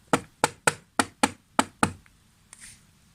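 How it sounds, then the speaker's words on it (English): Seven sharp knocks on a wooden door in a steady, slightly uneven rhythm, close and loud, followed by a brief faint rustle. "Soon they heard the big bad wolf knocking on the door."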